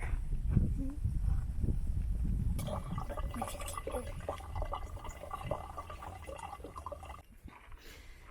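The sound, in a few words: purifying creek water with a backpacking water purifier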